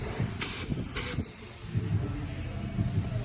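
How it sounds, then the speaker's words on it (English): Edge primer sprayed onto Magnum 500 wheels, short hissing bursts from a spray can or gun, faint and close, with light handling clatter around them. "Got the edge primer sprayed on there"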